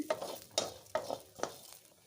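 Fresh grated coconut sizzles in a pan as it is stirred, with four quick, evenly spaced scraping strokes over a faint frying hiss, fairly quiet and close.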